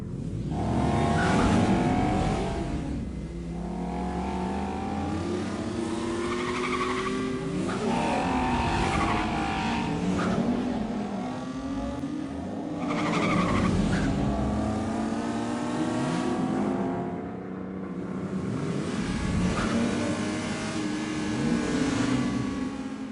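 The first-generation BMW M2 racing hard, its engine revving and roaring up and down through gears as tires squeal and skid in long sweeping bursts, loud and close with no talk.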